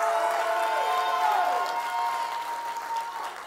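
A church congregation claps during a sermon, a soft wash of applause blended with sustained organ-like musical tones, moderately loud and continuous, with no voices.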